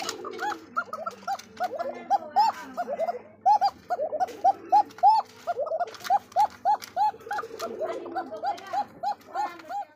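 Bombay racer pigeons coo repeatedly at close range, a run of short rising and falling calls in quick succession, with faint rustling and shuffling around them.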